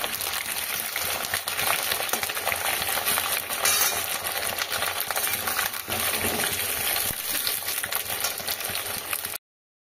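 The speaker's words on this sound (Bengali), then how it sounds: "আলুটাকে বেশ লাল লাল করে ভেজে নিয়েছি" New potatoes fry in hot oil in a pan for chicken curry, a dense, steady crackling sizzle that stays loud and close until it cuts off abruptly.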